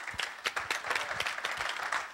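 A small audience clapping at a seminar, a patter of distinct claps from a modest group, close and moderately loud, with an uneven rhythm.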